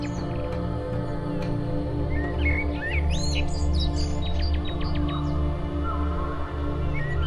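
Small bird chirping in short repeated high calls over a steady low background hum, with several quick tweets clustered in the middle before the calls thin out; consistent with a house sparrow.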